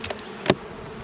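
Honeybees buzz softly around an open hive during a late-March inspection, a low steady hum with one brief louder burst as a bee passes close.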